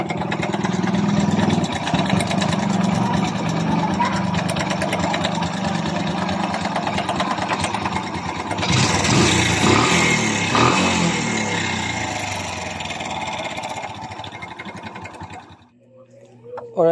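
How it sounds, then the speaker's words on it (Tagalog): A Kawasaki Bajaj CT 100 motorcycle engine with a worn timing chain idles with a rapid, rattly ticking clatter, steady for a while, then revving up before cutting off; a voice speaks over it. "parinig ko sa inyo guys ang tunog ng kanyang makina"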